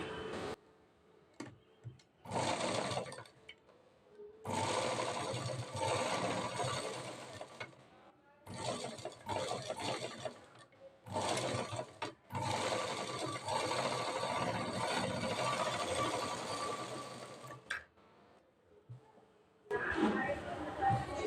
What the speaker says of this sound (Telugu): చక్కగా దీనిపైన మరో కుట్టు వేసుకోవాలి.